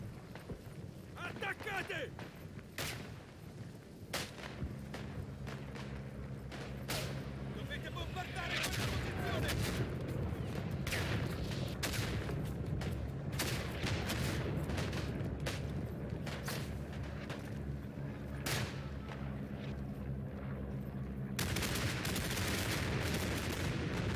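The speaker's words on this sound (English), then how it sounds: "Call in the barrage." Artillery barrage pounding a battlefield in the World War I shooter Isonzo, with dense, continuous booms and crackling gunfire rolling on for over twenty seconds, loud and sustained, mixed with game noise and a voice talking over it.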